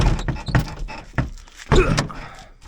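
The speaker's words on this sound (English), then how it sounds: "the door don't want to open" A stuck door on an extended cab 4x4 truck gives several loud close thunks and rattles as it is worked, with clunks spaced irregularly and a heavier bang near the end.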